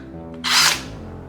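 Power drill whirring in a short, loud burst that rises and falls in under half a second, alone without talk, with a faint hum underneath.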